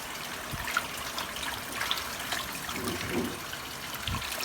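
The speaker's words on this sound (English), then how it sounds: "I'll put some more water into the tub" Water pours and splashes steadily into a tub for brining catfish, a continuous close gushing and trickling wash with no talk.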